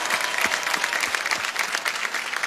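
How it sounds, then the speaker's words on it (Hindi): An audience bursts into loud, dense applause in honor of scientists, many hands clapping rapidly and continuously throughout with no speech over it. "उनके लिए एक जोरदार ताली बनती है सर"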